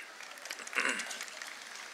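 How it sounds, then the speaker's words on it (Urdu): An audience at a Pakistani political talk event applauds in a steady spread of scattered hand claps, moderately distant, swelling briefly before settling into an even patter. "اس پہ تالیاں."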